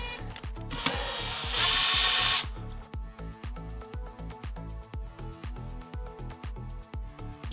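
A screw is driven out of a part on a Kirby Classic III vacuum cleaner during a refurbishment, with close, loud bursts of a power driver and then a steady run of rhythmic ratcheting clicks.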